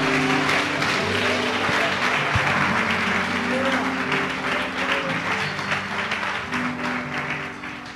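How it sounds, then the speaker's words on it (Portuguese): Congregation applauding in a church during a Christmas service, dense sustained clapping filling the room for the full eight seconds, loud and even, with voices and music mixed underneath. "Uma grande salva de palmas ao Senhor."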